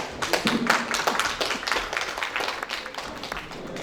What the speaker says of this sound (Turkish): Ben alkışa başlıyorum. Birbirinizi de alkışlayın lütfen.